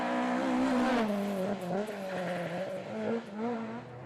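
Ford Escort rally car at speed in the Legend Boucles de Spa, engine roaring loud and close with a steady, rising and falling drone throughout, no talk.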